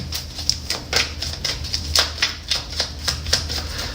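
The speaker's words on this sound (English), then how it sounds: "We're going to keep shuffling." Rapid, regular clicking and flicking of tarot cards being shuffled, a steady run of crisp taps close by with no talking.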